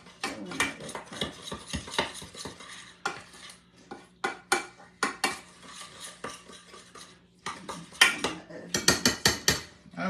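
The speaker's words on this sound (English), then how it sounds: "Whisk that up" A whisk beating banana pudding custard filling in a pot, giving rapid clattering metal-on-pot scrapes in bursts with short pauses between them.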